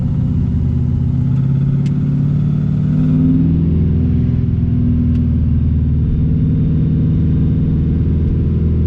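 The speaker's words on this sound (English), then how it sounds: "Okay, so I'm just driving around first." An LS-swapped BMW E46 with a suspected misfire driving around an empty park, producing a loud, close, continuous low engine rumble with slight rises in revs and no speech.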